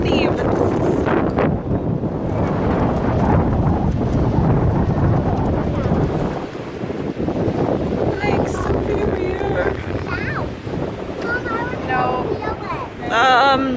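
Strong wind gusting by a lake during a family camping hike, loud continuous rumbling buffeting the microphone, with people talking over it and a brief lull midway.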